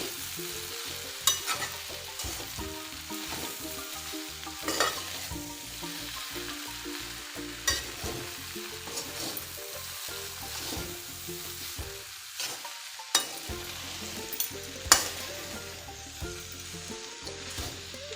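A spoon or spatula works through thick jackfruit curry in a pan. Repeated scraping stirs and soft knocks sound steadily over a low background sizzle, with a few louder clanks.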